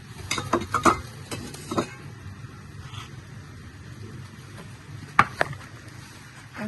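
Dried chilies crackle and sizzle steadily in hot oil in a pan, with a few sharp clatters of utensils against the cookware.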